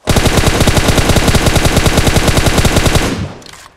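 Rapid automatic gunfire in PUBG Mobile, a close, loud burst of evenly spaced shots lasting about three seconds before cutting off with a brief echo.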